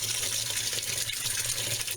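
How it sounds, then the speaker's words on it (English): Water gushes steadily into a washing machine as laundry detergent is poured in, making a continuous, loud, close splashing pour with no voices. "Now that it's filled up to about the 1 mark, I'm going to be pouring it into the washer."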